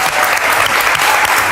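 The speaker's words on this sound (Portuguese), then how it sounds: "vamos aqui receber com um grande aplauso o grande capitão Coluna" A television studio audience applauds a guest, a former football captain, with loud, dense, sustained clapping that carries on evenly throughout and has no talk over it.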